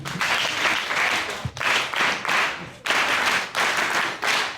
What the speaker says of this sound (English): let's give Dr. Ngweniso one last round of applause